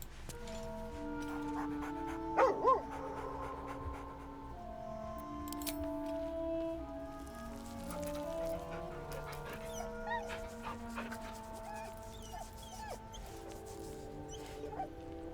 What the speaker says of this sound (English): I got a doggy in my camp.